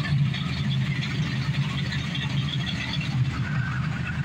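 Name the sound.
1968 Dodge Dart 426 Hemi engine pulling away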